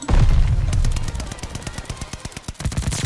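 Video-game gunfire from a powerful gun, heard as rapid, loud, evenly spaced shots in a sustained burst with a heavy low rumble at the start.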